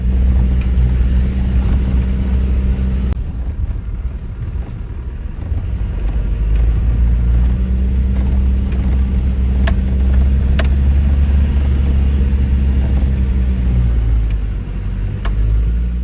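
Car driving a rough high plains track around Howitt and down the Caledonia River, a loud continuous engine drone with low rumbling, shifting load and faint knocks and rattles from the cabin.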